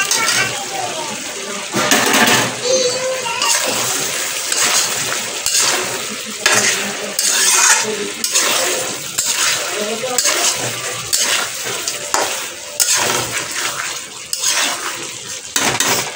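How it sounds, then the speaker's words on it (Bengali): Potatoes stir-frying in a pan for a Bengali home meal: a loud, steady sizzle broken by scraping and stirring strokes that carry on throughout. "আলুগুলো দিয়ে দিই একসাথে কষে।"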